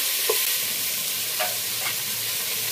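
Tomatoes fry in a pan for tomato pulao, giving a steady, close hiss of sizzling oil broken by a few soft stirring scrapes.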